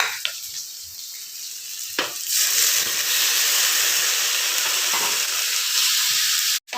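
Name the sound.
tomatoes frying in oil with onions for idli masala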